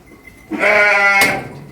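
A young suckling lamb on a livestock fattening farm in Akkuyu village, Adana, gives one loud, close, wavering bleat lasting about a second, heard alone.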